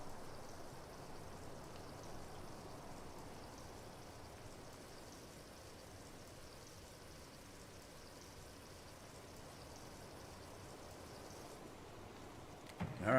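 Water draining and pouring out of a tanker in Farming Simulator 19, a steady close rushing stream-like flow that continues evenly throughout, then cuts off with a brief clunk at the very end.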